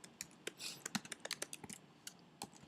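Quiet, close typing of code on a computer keyboard, with irregular bursts of crisp key clicks and brief pauses between them.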